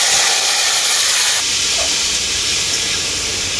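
Boiled bottle gourd dropped into hot oil tempered with dried chillies, bay leaf and five-spice seeds, producing a loud, continuous close-up hiss and sizzle.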